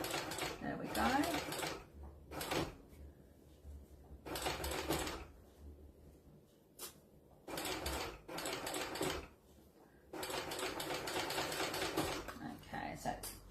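A sewing machine stitching over and backing across a zipper on a fabric book sleeve, running in several loud mechanical bursts with short pauses between, close up.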